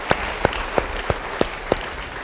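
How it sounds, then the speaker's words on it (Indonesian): A congregation claps during a church sermon, six sharp, evenly spaced claps landing in a steady rhythm over a low background murmur. "Beri tepuk tangan yang meriah."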